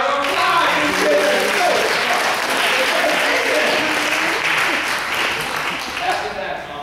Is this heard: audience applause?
yes